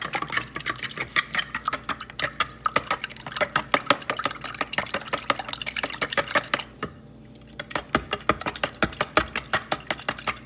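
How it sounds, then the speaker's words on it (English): Eggs whisked briskly in a bowl to scramble them, a rapid run of close clicking and sloshing strokes that pauses briefly partway through, then resumes. "And I'm going to scramble them."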